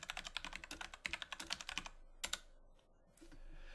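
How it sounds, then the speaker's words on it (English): Computer keyboard typing a command, a quick run of close, crisp key clicks lasting about two seconds, then a couple of final taps and quiet. "we're just going to type in system image show"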